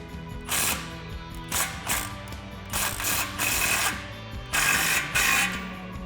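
A ratchet tightens an exhaust clamp on a Roush cat-back exhaust for a 2015-2019 Mustang EcoBoost, giving close, loud bursts of rapid clicking in repeated strokes separated by short pauses.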